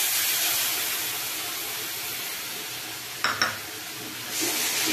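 Sour curd stirred into masala in a pan for doi katla, frying with a steady sizzle and hiss, a couple of brief scraping clinks of the spoon partway through; no talking.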